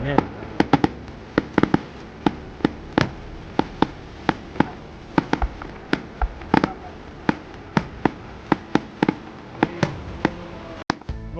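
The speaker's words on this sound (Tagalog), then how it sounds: "Ito na yung mga pampinali, yung mga fireworks na yan." Fireworks burst in a steady series of sharp, loud bangs at night, with some clustered pops, while people talk nearby throughout.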